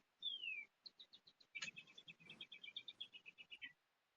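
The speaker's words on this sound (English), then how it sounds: "We can hear birds chirp." Birds chirp outside in a quiet setting: a rising whistle, then a rapid series of short, bright tweets and chirps, faint and somewhat distant, with no talking.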